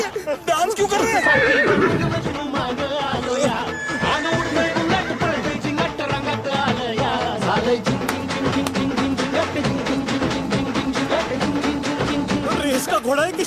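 In a Hindi film scene, a horse dressed for a wedding procession neighs amid a lively scene, whinnies rising over music and clip-clopping hooves, with people talking and shouting throughout.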